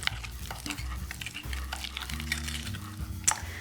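Lemon zest being stirred into creme fraiche and mascarpone, soft steady scraping and swishing of a spoon in a bowl, close and continuous with a low background hum.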